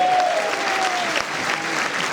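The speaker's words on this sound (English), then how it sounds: "To our chairman, Jay Jacobs, let's give him a round of applause." Audience applause fills a political get-out-the-vote rally, a dense, steady wash of many hands clapping throughout, with a brief whistle-like tone early on.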